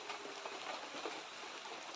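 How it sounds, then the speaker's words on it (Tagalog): Steady rain falls nearby as a continuous, even hiss with no break or voice over it. "kahit umuulan ngayon"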